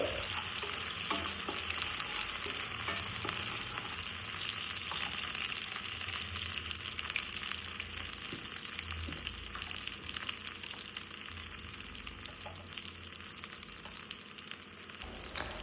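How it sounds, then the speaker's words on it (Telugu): Fresh mint fries in hot oil for bagara rice while being stirred in the pan, giving a steady crackling sizzle with occasional soft scraping from the stirring and no talking. "పుదీనా కూడా ఆయిల్లో మంచిగా ఫ్రై అయ్యేదాకా మంచిగా ఒకసారి కలుపుకొని మంచిగా ఫ్రై చేసుకోవాలి"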